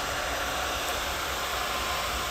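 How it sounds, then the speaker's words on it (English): A handheld blow dryer roars steadily at close range as hair is dried with a round brush, a continuous airy hiss with no gaps or speech. "Make sure you don't point the blow dryer directly at the root."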